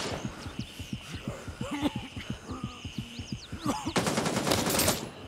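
Rapid automatic gunfire in the video game Gray Zone Warfare: a steady, fast stutter of shots running throughout, with a denser, louder burst near the end.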